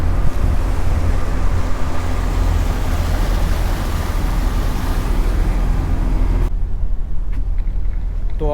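Tour boat cruising on the lake at Lugano, Switzerland, giving a loud, steady engine drone and rushing water noise close by for most of the ride, which drops away abruptly near the end to quieter ambience.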